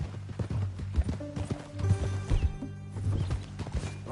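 Horse hooves clip-clop steadily in a PS4 western video game, with low background music and occasional ambient game sounds running underneath the rhythmic steps.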